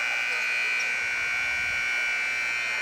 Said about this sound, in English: That's a long buzzer.